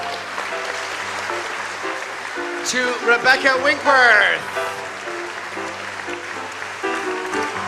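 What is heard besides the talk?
audience applause for performers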